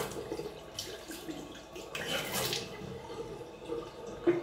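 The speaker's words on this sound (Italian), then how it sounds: "Abbiamo aperto l'acqua per aumentarlo." A tap runs while someone rinses their face after shaving, giving a soft, uneven stream of splashing water close by, with a few brief louder splashes.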